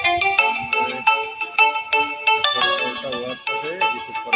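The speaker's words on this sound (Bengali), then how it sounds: "কল আসছে" An incoming WhatsApp call rings on a phone, a bright looping electronic ringtone melody with rapid repeated tones, loud and close, with no voices over it.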